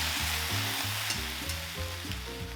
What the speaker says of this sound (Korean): 이제 불을 올리고 시금치가 숨이 죽을 때까지 볶아주겠습니다